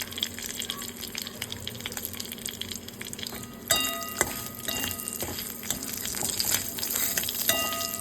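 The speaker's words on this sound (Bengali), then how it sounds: "এর মধ্যেই দিয়ে দেব বেশ কিছুটা জিরে, শুকনো লঙ্কা আর তেজপাতা" Cumin seeds, dried chillies and bay leaves frying in oil in a pan after prawns are removed, giving a busy, crackling sizzle that grows denser and louder partway through, with no talk.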